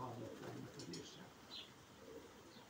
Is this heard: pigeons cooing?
yes